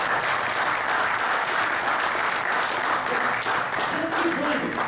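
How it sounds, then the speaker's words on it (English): Sustained audience applause at a teamwork workshop held at a Filipino club in Jubail, a dense continuous wash of many hands clapping at steady loudness throughout. "Don't you want to applaud for yours?"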